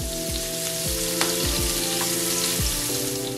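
Shrimp frying in a hot pan, a steady close sizzle broken by a few light scrapes and taps from turning them, with no talking.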